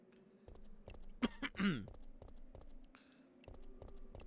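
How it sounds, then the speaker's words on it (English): One abrupt cough close by, then a rough throaty follow-up, set against steady ticking taps in a quiet room. "I don't know why I had to cough"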